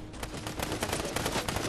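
Rapid automatic gunfire in Fortnite, a dense burst of repeated sharp shots fired in quick succession, loud and close with no talking.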